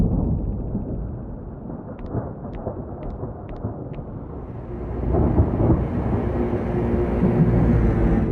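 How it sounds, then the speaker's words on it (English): A deep, rumbling thunderstorm builds with low thunder that swells louder toward the end, and a few short, faint high clicks sound near the middle. "looks like a storm is brewing"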